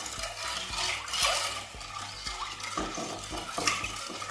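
Milk, sugar and rice for palpayasam stirred in a pressure cooker pot, a spoon scraping and knocking against the metal in a steady, repeated rhythm, close and fairly quiet with no talking.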